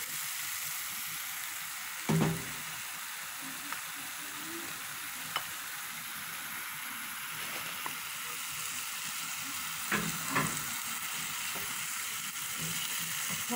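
Onions frying in a pan, giving a quiet continuous sizzle with a few scattered clicks and scrapes of utensils, close and with no talking.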